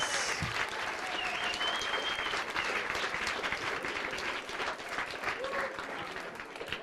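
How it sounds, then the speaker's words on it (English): An audience at a science slam in Barcelona applauds a speaker, a dense, steady roar of many hands clapping that holds for several seconds with a few faint voices mixed in. "Thibault Péan, your applause."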